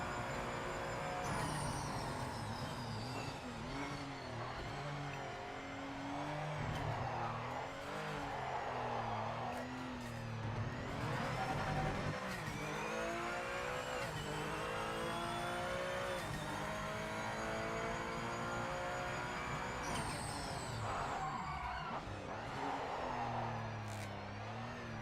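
Race car engine screaming at full throttle in the Project Motor Racing sim, with a continuous loud high-revving drone that rises and dips through gear shifts for the whole stretch, no voices.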